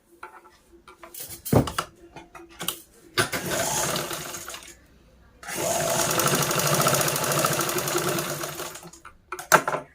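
A sewing machine stitches a fabric drawstring tassel in two bursts of rapid mechanical chatter, one short and one longer, broken by clicks and handling sounds between them.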